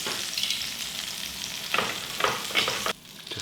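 Butter melting in a frying pan, giving a steady, soft sizzle and crackle with a few brighter pops near the end, heard up close with no talking.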